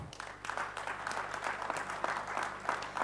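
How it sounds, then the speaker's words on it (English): Audience applause for dignitaries at an SME entrepreneurs' awards event, a dense, steady patter of many hands clapping, fairly faint and sustained for a few seconds. "Can we have a huge round of applause?"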